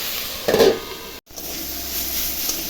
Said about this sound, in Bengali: শাকটা এখন ভালো করে নাড়াচাড়া করে একটু ঢাকা দিয়ে দেবো।